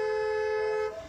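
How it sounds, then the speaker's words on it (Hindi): A long, steady car horn blast sounds loud and close on a narrow single-lane road at a blind turn, holding one sustained tone for about a second before cutting off. "अब ब्लाइंड टर्न है, सामने दिख नहीं रहा, तो लॉन्ग हॉर्न पुश करो"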